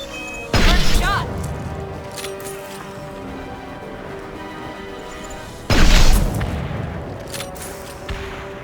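Two heavy gunshots ring out in the video game Mass Effect 2, about five seconds apart. Each is a loud, booming blast that trails off in a long reverberant rumble over low background ambience.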